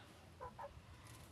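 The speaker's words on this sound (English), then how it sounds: "So we have some chicken. We have some chicken right here." Chickens cluck twice in quick succession, soft and faint against low outdoor background noise on a small farm.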